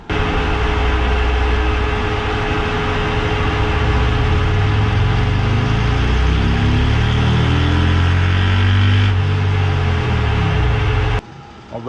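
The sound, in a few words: Harley-Davidson Road Glide Stage 2 engine on dyno, wide open pull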